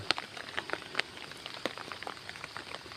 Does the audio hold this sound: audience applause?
no